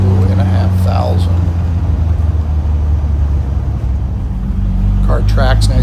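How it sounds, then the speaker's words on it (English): A 1976 Triumph Spitfire 1500 driving and accelerating, its engine a loud, steady low drone heard from inside the car, with someone talking over it at the start and end. "Accelerates nicely. Gets up through the gears."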